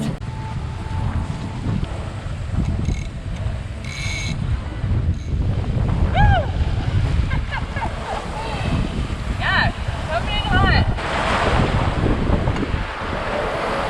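Strong wind roars across the microphone while waves rush and surge against a sailboat under sail off Cape Caution, a steady loud wash of water and gusts throughout, with a few brief tonal squeaks mixed in.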